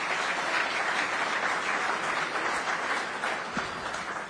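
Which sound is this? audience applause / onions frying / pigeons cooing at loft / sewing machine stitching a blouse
audience applause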